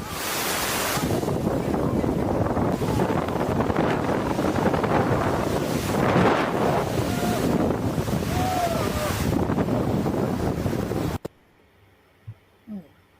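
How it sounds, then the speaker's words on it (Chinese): Strong wind roars across a foggy mountaintop, thrashing the treetops, a loud continuous buffeting rush for about eleven seconds that cuts off abruptly, leaving near silence with a couple of faint short sounds. "风声足大"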